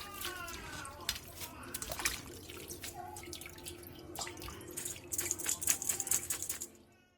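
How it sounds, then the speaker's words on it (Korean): Salted jujubes are rinsed in water, with dripping, splashing and trickling from a tap into a sink, close and fairly quiet, in uneven bursts that grow busier near the end. "다 절인 대추는 물에 한 번 헹궈낸 뒤 물기를 충분히 빼놔주세요"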